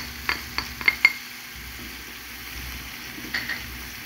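Onion, garlic, pumpkin and parsley fry in a pan with a low, quiet sizzle, broken early by a few sharp utensil clicks and scrapes, then another pair of taps near the end.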